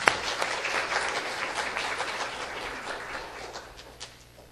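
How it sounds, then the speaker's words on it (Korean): Applause rises in a church congregation to welcome someone during a Sunday service, a dense steady patter of many hands clapping that slowly fades over several seconds. "박수로 환영합니다."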